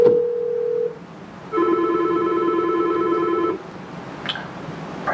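A Yealink T53W desk phone placing a call to an extension: a steady dial tone that cuts off, a pause, then a longer ringback tone that stops, followed by a faint short click, close and clear with no talk.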